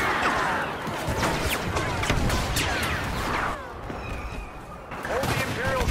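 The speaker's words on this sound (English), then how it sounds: "Bombers are making their attack run." Bombers make an attack run in the Star Wars Battlefront beta: a dense, continuous barrage of loud blasts, crashes and gunfire, with brief lulls, as voices talk beneath the chaos.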